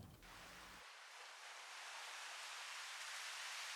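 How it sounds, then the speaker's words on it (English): A washing, shimmering swell of broadband noise like ocean surf, used as a waves shimmer sample in a deep, organic melodic house track, entering after a brief low thump and building steadily in a transition sweep. "this little waves shimmer sample"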